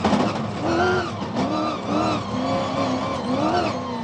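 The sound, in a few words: Toyota Hilux rally race truck engine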